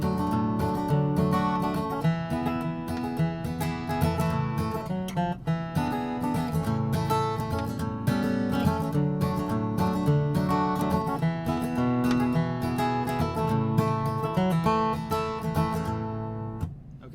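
An acoustic guitar strummed through a verse chord progression, a steady, full-bodied strumming pattern played close and alone for about seventeen seconds without talking.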